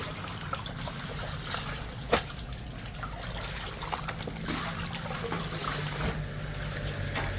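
Water trickles and drips faintly from salted napa cabbage set out to drain for kimchi, a soft, continuous dribble with a few small splashes, heard close and quiet.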